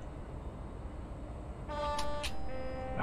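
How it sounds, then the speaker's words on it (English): A train horn sounds in Train Simulator on the Edinburgh to Dundee line of the Scottish East Coast route, heard from a Virgin HST. It gives a short tonal blast, then a second longer note, over a steady rumbling engine. "Got another whistle here."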